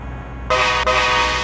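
Air horn of a DAF XF Euro 6 truck in Euro Truck Simulator 2, two loud blasts in quick succession, the second held, alone without talk.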